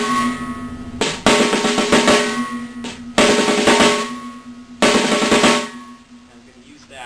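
Drum rhythm with two notes added, played in three clear bursts of rapid strokes separated by short gaps, close and loud with ringing drum resonance, no talking.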